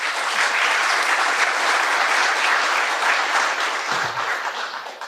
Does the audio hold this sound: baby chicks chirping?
no